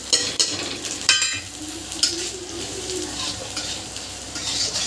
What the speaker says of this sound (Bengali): এবার দিয়ে দেবো লঙ্কা গুঁড়ো হলুদ গুঁড়ো জিরে গুঁড়ো ধনে গুঁড়ো